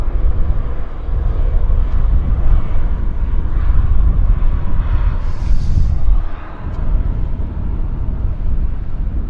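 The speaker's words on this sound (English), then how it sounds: "Westjet that just landed that I missed." A WestJet airliner landing at Vancouver Airport, heard as a loud, steady low engine roar with wind buffeting, easing slightly toward the end.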